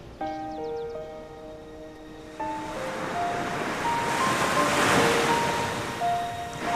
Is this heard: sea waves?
yes